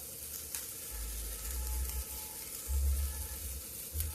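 Tomatoes hit hot oil in a frying pan while cooking a tomato chutney: a steady, fairly quiet sizzle and crackle with low rumbling surges, heard alone without speech.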